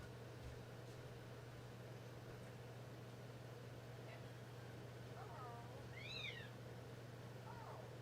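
A house cat lets out a few short, faint meows in quick succession, set against a steady electrical hum and low room noise.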